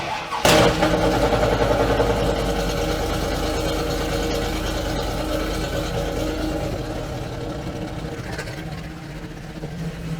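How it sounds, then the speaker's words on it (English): A truck with a Torqueflite 904 transmission starts cold, with a sudden crank and catch, then settles into a loud, steady idle that eases slightly over about ten seconds. "Gotta love the cold start."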